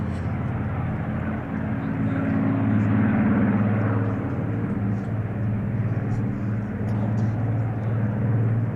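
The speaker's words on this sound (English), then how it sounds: "Nice tail chase here by the two Spitfires." Two Spitfire aircraft fly a tail chase at an air show, their piston engines producing a steady, loud droning roar that swells and eases slightly as they pass, with crowd murmur in the background.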